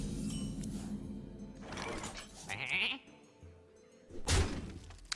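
The Polymorphed Sheep in the Hearthstone video game gives a loud, wavering bleat amid a burst of clattering game sound effects and thuds, with a second noisy effect near the end.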